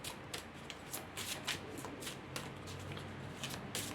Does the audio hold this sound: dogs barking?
no